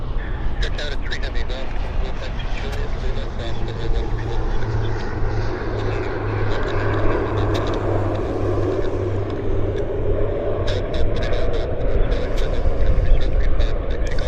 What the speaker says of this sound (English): Beach 1900 landing here. Small aircraft.